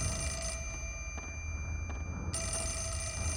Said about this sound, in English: Well, it'd be rude not to answer the phone